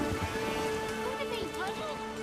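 Steady rain falls in The Witcher 3, a soft continuous patter that runs the whole moment behind faint ambient tones.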